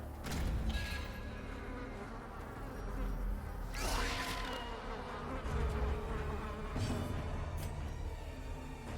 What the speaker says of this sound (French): les bruits de moustiques pendant 24 ans dans les oreilles, là